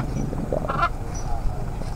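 Short bird calls ring out, a couple of honking, quacking cries over a steady outdoor murmur.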